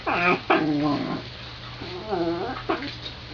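Two dogs playing in a room, with close growls, yips and whimpering vocal bursts in uneven spurts over a steady low hum.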